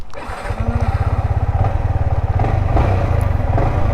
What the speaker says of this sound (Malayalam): അപ്പോൾ നമുക്ക് എന്തായാലും വണ്ടി ഒന്ന് സ്റ്റാർട്ടാക്കാം.